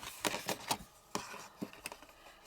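Quiet, crisp snips of scissors cutting paper, several irregular clipping sounds in short bursts, close and faint, with no talking.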